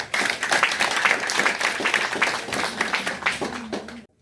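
Applause at an inauguration ceremony for a health centre in Château, Tigwav, dense and steady clapping from a crowd lasting about four seconds, then stopping abruptly.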